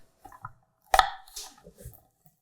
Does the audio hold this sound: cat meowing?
no